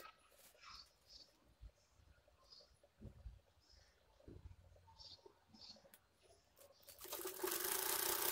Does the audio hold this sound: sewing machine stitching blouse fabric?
yes